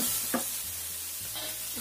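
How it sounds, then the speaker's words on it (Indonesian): A spatula stirs chili and sugar around a hot frying pan, with a steady low sizzle under soft scraping strokes, close and moderately loud, and no talk over it. "Kita aduk sampai tercampur rata."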